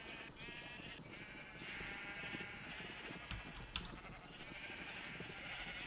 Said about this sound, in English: There are still a lot of sheep in here that I was not expecting.